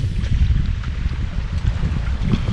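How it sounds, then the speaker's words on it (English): Strong wind blows while fishing outdoors on the water, buffeting the microphone with a loud, continuous low rumble and gusty roar that does not let up. "The wind has really picked up now quite a bit."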